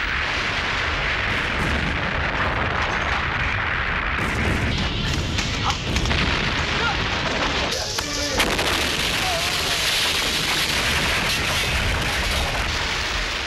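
Tons of explosives demolishing a specially built Hong Kong factory for a film stunt finale, a loud sustained roar of blasts and rumbling debris with no pauses throughout.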